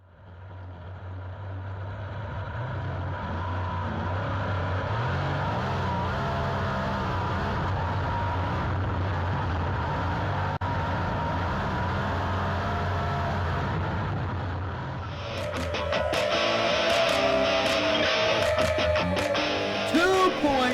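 The number 22 race car laps Boomtown Speedway in qualifying, a steady droning engine roar held for long stretches, then a sharper, rattly engine burst near the end, with an announcer talking over it.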